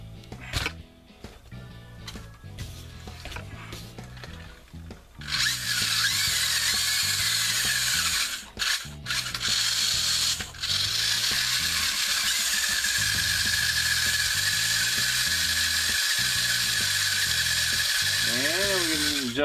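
A New Bright Jeep Rock Crawler RC car's electric motor starts up, a loud steady high-pitched whine that holds for over ten seconds, briefly cutting out and resuming, ending with a rising and falling pitch sweep.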